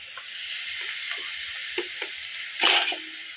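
Garlic, salt and a little water sizzle in a hot pan, giving a steady close hiss with a few soft taps and a brief louder burst near the end, with no talking.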